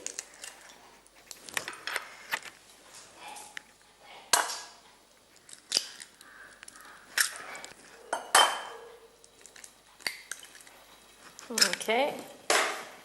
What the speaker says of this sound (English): We need around 3 to 4 eggs, and just crack it in.